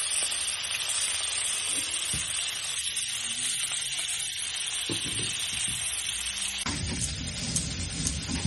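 Fish frying in hot oil in a home kitchen, a steady close sizzle with occasional clatters and scrapes as pieces are moved, growing louder and crackling toward the end.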